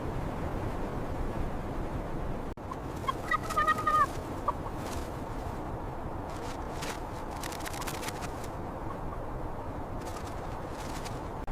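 A male Svalbard grouse calls from its territory on the Arctic tundra, giving a short, croaking, rattled burst followed by scattered clicking notes over a steady hiss of wind.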